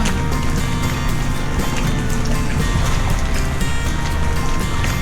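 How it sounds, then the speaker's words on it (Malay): A boat engine drones at sea near Mabul Island in Sabah, a loud, continuous rushing roar mixed with wind and water splash, steady throughout with no clear pauses. "Bunyi boat ni lah, bunyi enjin tu."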